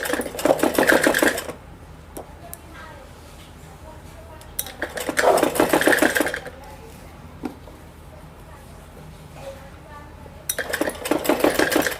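Sewing machine stitching the side hem of a Patiala salwar, three loud rapid bursts of rattling needle clatter separated by quiet pauses with small handling clicks in between.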